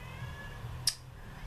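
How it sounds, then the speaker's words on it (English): A house cat gives a single short meow in the background, brief and moderately faint against a quiet indoor room tone. "And you can hear my cat meowing in the background"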